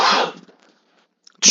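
A person sneezes mid-sentence: one sharp, loud burst at the start and a second close burst at the end, with near silence between.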